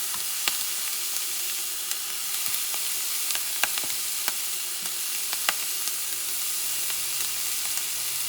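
Bacon sizzling in a pan for a wild boar and pork hash, a constant close hiss with sharp pops and crackles scattered throughout, no talking.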